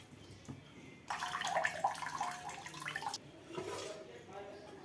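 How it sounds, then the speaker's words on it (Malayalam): Water poured over washed poha (flattened rice) and drained off in a kitchen, a steady splashing, trickling rush lasting about two seconds, then quieter dribbling. "രണ്ടാമതും വെള്ളം ഒഴിച്ച് അതുപോലെ തന്നെ പെട്ടെന്ന് വെള്ളം ഊറ്റിയെടുക്കാം"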